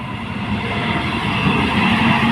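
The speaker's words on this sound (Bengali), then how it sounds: "এই ট্রেন যাচ্ছে," A local train passing at Taratala: a close, continuous, loud rolling rumble of carriages with a steady wheel-on-rail drone that holds through the whole moment.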